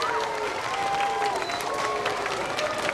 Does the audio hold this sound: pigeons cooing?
no